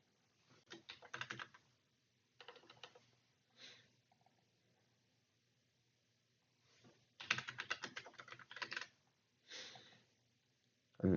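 Close, quiet clicking of a computer keyboard during coding, typed in several irregular bursts of rapid keystrokes separated by silent pauses.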